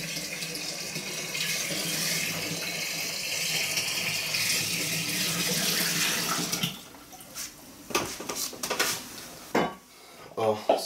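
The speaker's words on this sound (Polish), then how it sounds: "teraz doleję to też jeszcze do nastawy, żeby mieć wino słodsze." Dissolved sugar syrup poured into a homemade rose hip wine must, a steady liquid pour with clinking of a container, followed by scattered knocks and handling noises near at hand.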